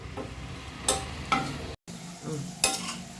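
Green chillies sauté with masala in a pan for a kandhari chilli pickle, sizzling steadily as a spoon scrapes and stirs through the contents in a few distinct strokes, close and moderately loud.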